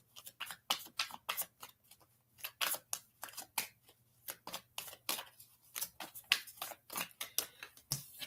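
Tarot cards being shuffled by hand in a quiet room, a long run of crisp riffling and slapping bursts in irregular rhythm, close and fairly soft, with a faint low hum beneath.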